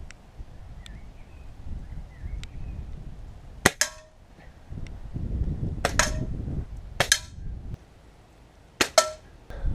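Airgun with open sights fired at a target outdoors, several sharp cracks spaced a few seconds apart over a low background rumble, each shot loud and close.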